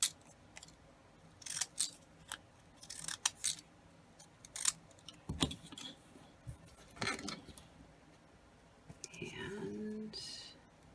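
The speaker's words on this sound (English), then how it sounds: "We will just cut a thinner piece." Scissors cut a thin paper strip for a collage journal, a series of short, close snips in irregular rhythm followed by a brief rustle of paper, faint and quiet.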